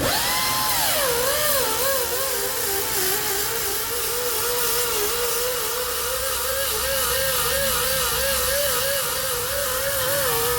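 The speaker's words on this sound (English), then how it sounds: "Now I'm just going to go through with a grinder and take down all of those welds" An angle grinder takes down welds on a steel fuel tank from a Franna crane, making a loud, continuous, close whine whose pitch wavers and drops slightly as the disc bites into the metal.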